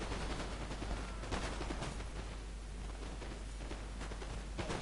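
Infantry musket volleys in the Napoleon: Total War video game, dense crackling gunfire in repeated bursts over a constant battle din for about five seconds, with no voices.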